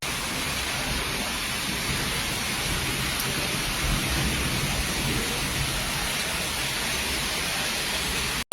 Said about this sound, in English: rain has been falling since midday,